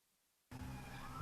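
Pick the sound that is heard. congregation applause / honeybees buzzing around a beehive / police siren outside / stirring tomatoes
police siren outside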